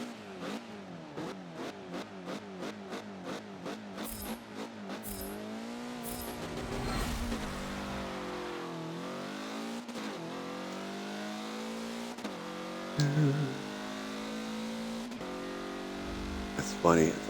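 Formula Mazda race cars in a Forza video game launching off the line with spinning tires, engines revving in rapid stepped gear changes that rise and overlap, loud and close, with someone talking over them.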